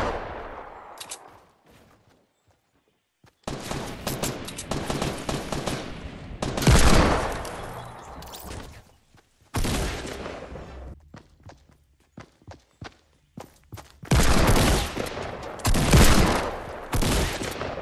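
Bursts of rapid gunfire in the Fortnite battle royale game, loud and close, with quiet gaps and footsteps between volleys.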